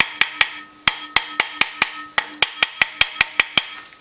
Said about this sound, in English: we're just going to take it and tap it back down in here